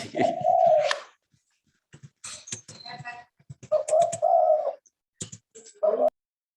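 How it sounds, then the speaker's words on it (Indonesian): A pigeon or dove coos nearby in several repeated phrases with short pauses between them, heard alone against near silence. "Kayaknya ada bocor ya, ada burung."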